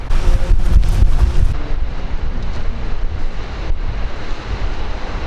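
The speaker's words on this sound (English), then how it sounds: "The wind is too strong, so we had to get back in the car" Strong wind roars and buffets continuously on the Isle of Skye near a waterfall, with heavy low rumbling gusts and surf-like noise, loudest in the first second and a half.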